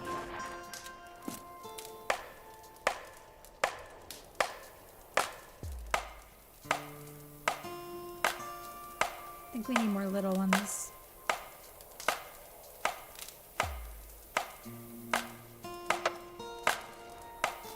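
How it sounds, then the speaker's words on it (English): Repeated chopping blows on a huge log in a wilderness survival video game, sharp evenly spaced thwacks over about eighteen seconds with brief game tones between, and a voice speaking quietly once. "Start chopping."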